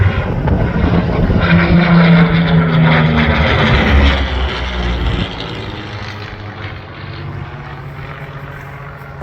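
A P-40 Kittyhawk/Warhawk fighter flies over at the Tocumwal air show, its propeller engine a loud, steady, close drone that eases slightly in the second half without fading away.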